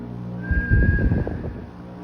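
A single thin, steady steam engine whistle sounds in the distance over a rumbling, chuffing steam locomotive noise that swells briefly and fades.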